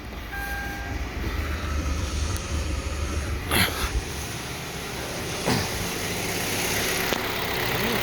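A 2012 Kia Forte engine, just fitted with a new timing chain, cranks and catches with a brief surge, then settles into an even, steady idle close by.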